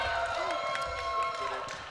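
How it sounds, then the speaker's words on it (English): Crowd applause and cheering for a voice actor at a live old-time radio drama show, steady clapping and voices filling the whole stretch at moderate level with crowd noise throughout. "Give a big round of applause for Victor over here."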